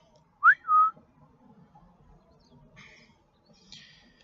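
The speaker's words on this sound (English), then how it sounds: "the whistle, why I'm whistling" A short two-note human whistle, a quick rising chirp then a held tone, followed by quiet room noise and faint higher hisses.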